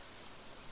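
Steady rain falling in the video game Stardew Valley, a soft, even hiss throughout, faint and continuous with no voices.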